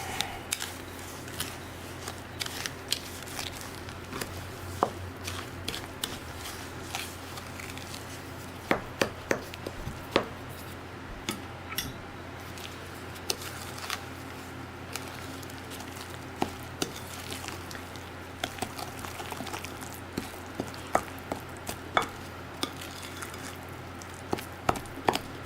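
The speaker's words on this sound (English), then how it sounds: "Now we're going to add our 1 cup of breadcrumbs. And we're going to beat it again" A spoon or mixer works breadcrumbs into batter in a bowl, giving steady soft squishing and scraping with frequent light clicks against the bowl throughout.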